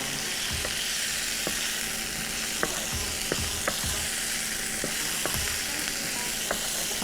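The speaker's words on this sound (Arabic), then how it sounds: "وهحط الكفته بتاعتي تتشوح معايا اهو. هفضل اقلب فيها كده" Finely minced chicken kofta sautés in a pan under a constant bright sizzle, broken by occasional clicks and scrapes as it is stirred, with no voices.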